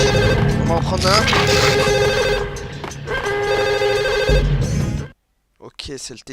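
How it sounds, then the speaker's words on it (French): A home telephone rings repeatedly in the video game Max Payne, loud, steady electronic tones pulsing for about five seconds over game sound, then cutting off into brief silence followed by faint noise. "c'est le téléphone maison"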